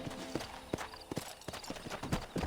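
Horse hooves clip-clop in a steady, moderately quiet rhythm in the video game Red Dead Redemption, a run of evenly spaced thuds with faint background ambience.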